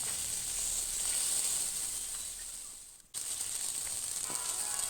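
Duck breasts sizzle skin-side down on a hot flat top, a steady bright hiss with crackle that briefly cuts out and resumes, no talking.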